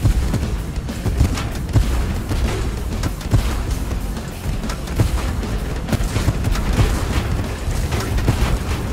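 Artillery bombardment in the tank combat game Tank Force, a dense run of booming explosions and thuds that keeps on with no let-up, loud and close, with no voices.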